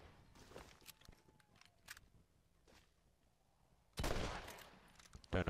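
Blind gunfire in Red Dead Redemption, scattered distant shots through the first half, then a loud close burst of several rapid cracks and a final blast at the end.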